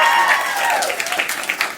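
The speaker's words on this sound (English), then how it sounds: "Give yourselves a round of applause for coming out to the show." An audience applauds at a live podcast show at the Little Andromeda theatre in Christchurch: loud, close clapping and cheering that starts dense and gradually thins out into scattered claps.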